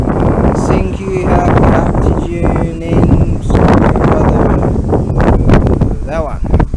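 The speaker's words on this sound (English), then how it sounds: "Now, because it's nice and windy" Strong wind buffets the microphone outdoors near a large stadium in Japan, a loud, continuous rumbling roar mixed with chatter and other voices throughout.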